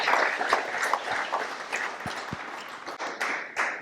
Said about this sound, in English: would you please join me in a big round of applause to say thank you to them